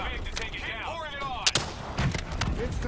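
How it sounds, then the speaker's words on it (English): An RPG fires in Call of Duty Black Ops 3, a sharp close blast cutting through a busy battle soundscape of gunfire and whooshing effects, with a voice speaking underneath. "Hit it with an RPG while its defenses are disabled."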